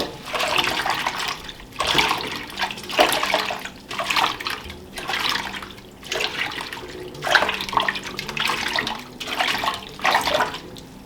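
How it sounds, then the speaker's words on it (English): Leeks being swirled in a bowl of water to loosen grit make about eight rhythmic sloshing surges, close and wet, with brief pauses between each stir. "Swirl them around in some water."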